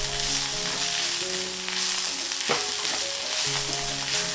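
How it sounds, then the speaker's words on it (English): Loud, continuous sizzle of gravy in a pan while flour is quickly stirred in, with soft scraping strokes and a brief clink partway through. "To thicken the gravy, I just want to add a little bit of flour and mix it quickly."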